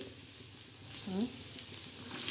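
Garlic and curry leaves frying in a hot pan, a soft continuous sizzle and crackle close by, faint and brief, with a voice speaking over it.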